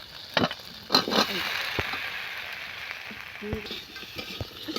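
Lightly fried potatoes and flat beans stirred in a pan, with several scraping strokes of a spatula and a couple of louder knocks over a gentle background sizzle.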